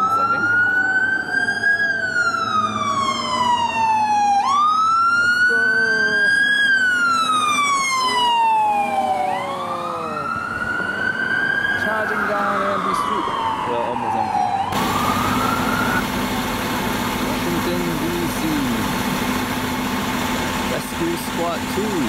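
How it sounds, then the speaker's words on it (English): Fire engine siren wailing in rising and falling sweeps as it passes along a Washington DC street, joined by an ambulance siren right behind, loud and close over traffic and engine rumble, with a steady harsher siren tone at the end. "can see a fire engine screaming its way."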